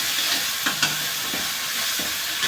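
Softened tomatoes being stirred and mixed in a cooking pan over a high gas flame, a steady broadband frying hiss broken by a few soft scraping thumps of the spoon, close and continuous.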